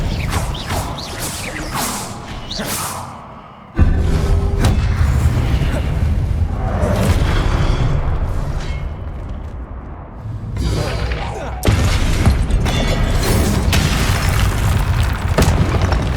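Spell effects in the video game Hogwarts Legacy: heavy booms, whooshes and crackling magical blasts in rapid bursts, loud and close, mixed with game music and a voice shouting.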